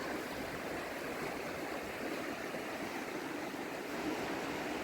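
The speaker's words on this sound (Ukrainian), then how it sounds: "Ой, аж закручує за камінням від потоку води, такий наче аж водоворот іде." Mountain river in Zakarpattia rushing over rocks and swirling around them, a steady, loud, unbroken roar of flowing water with no voices.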